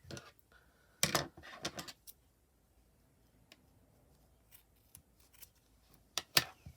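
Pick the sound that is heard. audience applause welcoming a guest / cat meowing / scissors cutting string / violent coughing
scissors cutting string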